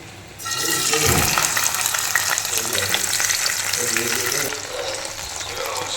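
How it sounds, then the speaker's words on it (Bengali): Pomfret fish pieces rubbed with salt and turmeric fry in mustard oil in a frying pan, giving a loud, steady sizzle that jumps up when they go in and then holds evenly to the end, with no talking. "আমি একে একে মাছগুলো ভেজে নেব"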